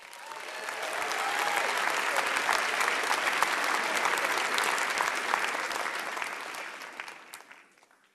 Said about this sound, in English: So please give a warm applause to this next speaker,